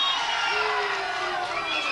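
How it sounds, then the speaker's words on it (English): Crowd roaring and cheering at a Campbellsville vs Cumberland University women's soccer match, a steady, dense wash of voices filling a brief moment. "A big roar from the crowd for that one."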